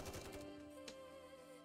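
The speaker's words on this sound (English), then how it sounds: "The counters pummel the Rapture's core with another hail of gunfire." Rapid bursts of gunfire in a Nikke cutscene from the Nier: Automata collaboration, as a hail of shots pummels the Rapture's core: a quick cluster of cracks, then one more shot over a sustained musical tone.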